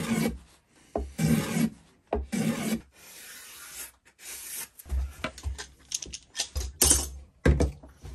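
A file rasps a small chamfer onto the corner of a small wooden birdhouse in several short back-and-forth strokes, close and fairly loud, with brief pauses between bursts and no talk.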